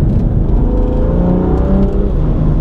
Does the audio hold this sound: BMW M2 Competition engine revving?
yes